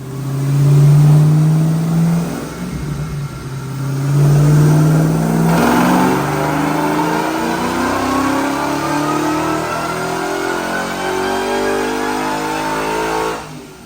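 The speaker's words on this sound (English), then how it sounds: "Check out this dyno pull." Supercharged 1968 Ford F100 pickup with a Roush-supercharged Coyote V8 swap and an MSD two-step, roaring loudly on a dyno pull, its engine climbing steadily in pitch through a long sustained rev, very close.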